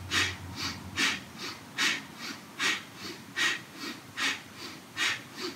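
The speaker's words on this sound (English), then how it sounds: "beginning breath of fire." Rapid yoga breath of fire, a steady run of sharp nasal exhales at roughly two per second, close and fairly soft, with no talking.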